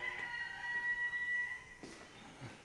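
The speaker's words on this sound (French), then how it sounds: "On entend les oiseaux, les poules, les vaches." A rooster crows faintly in the distance while hens cluck softly in a quiet outdoor setting, with no one speaking.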